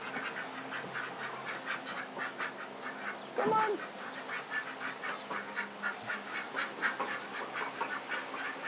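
A duck quacks repeatedly in a steady run of calls while being shut into a coop for the night, with a person briefly speaking partway through.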